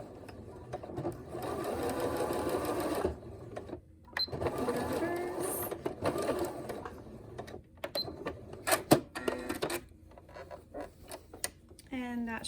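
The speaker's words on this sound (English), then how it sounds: "just sew, reverse, and then keep sewing" A sewing machine stitches a fabric surgical mask in loud whirring bursts, stopping briefly for a reverse and then running on, with sharp clicks and mechanism clatter between runs near the end.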